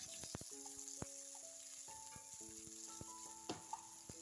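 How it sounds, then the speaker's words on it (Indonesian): Garlic, shallots and ginger fry in olive oil with a soft, steady sizzle, broken by a few sharp clicks and taps of a utensil against the pan. "Tumis untuk perbumbuannya bawang putih, bawang merah, dan juga jahenya hingga tercium bau harum."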